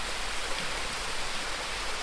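The smaller of two waterfalls at Wangi Falls in Litchfield National Park pours down in a steady, broadband rush of water, close and unbroken for the whole stretch with no talking.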